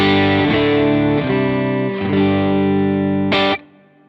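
Electric guitar through an Amplified Nation Ampliphonix amp with its spring reverb set about halfway: sustained chords restruck roughly every second, each ringing out with a lush reverb wash, then a brighter final strum that cuts off.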